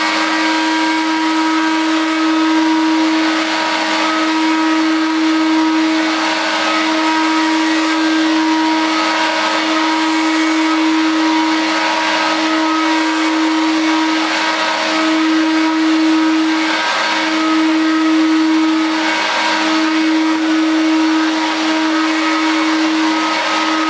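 A vintage Hooverette stick vacuum cleaner fitted with a buffing pad runs continuously with a loud, steady motor drone and a faint rhythmic swish as it is pushed back and forth over the floor.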